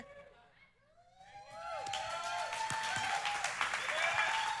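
Applause swells from a church congregation, building from quiet to steady, dense clapping that carries through to the end, with voices talking over it.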